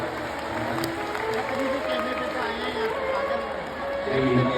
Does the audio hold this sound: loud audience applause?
yes